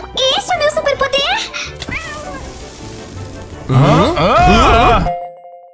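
A cartoon cat meows and caterwauls loudly in long wavering cries, mixed with animated character voices and music, then cuts off abruptly to silence.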